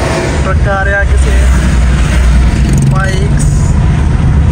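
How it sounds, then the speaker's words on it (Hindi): A truck rolls along a mountain road in northern Pakistan's Kaghan valley, its engine a loud, constant low rumble mixed with wind, while someone talks over it and a brief horn-like tone sounds. "ट्रक आ रहा है"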